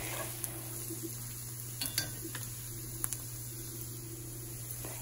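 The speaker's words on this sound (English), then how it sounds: "And just stirring that up to cook those spices" Dried basil and spices are stirred in a soup pot over a low, steady hum and soft sizzle, with a few light scrapes and taps of the spoon, close and without talk.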